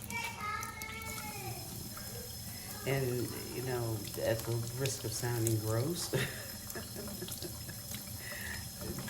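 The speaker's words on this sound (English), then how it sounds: "I just will let the water run just a bit, and I just basically will just run my chicken under it like that" Tap water runs in a steady stream over raw chicken in a kitchen sink, a constant splashing hiss that continues under a voice as she talks throughout.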